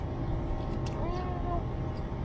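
A small cat gives a short, thin meow against a steady, loud background hum.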